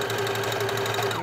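A sewing machine stitches a rectangle through dog harness fabric, a rapid, even mechanical whir with regular needle clatter heard close and alone for a brief burst.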